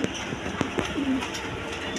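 Tagged Panja pigeons, a male and a female, give soft low coos amid light rustles and clicks, with short murmuring bursts close by.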